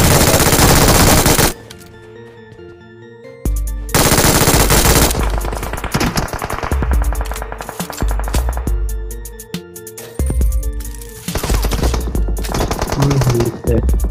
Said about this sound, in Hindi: अंकुर फायरिंग कर रहा है भाई